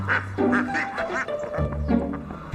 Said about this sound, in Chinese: 我在喂鸭子呢